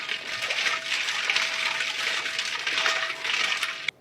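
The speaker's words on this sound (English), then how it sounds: "Mix it well." Milk and Ruh Afza sharbat swirled and mixed in a jug, a steady, loud sloshing and churning of liquid heard close up and alone for several seconds, ending abruptly.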